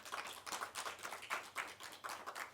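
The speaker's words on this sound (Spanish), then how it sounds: "Un fuerte aplauso al Señor." A church congregation claps in a quick, rhythmic burst of applause. Many hands strike in an even, moderately loud pattern for a few seconds with no talking.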